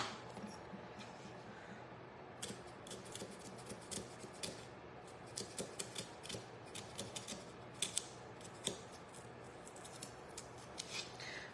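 Scissors cut in quiet bursts of small crisp snips and rustles at close range, faint and irregular, with no talking.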